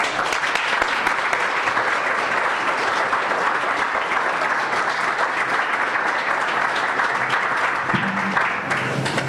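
An audience breaks into steady, sustained applause to welcome art critic Karen Wilkin at a public conversation event. Many hands clap close and loud for several seconds before the clapping begins to thin near the end.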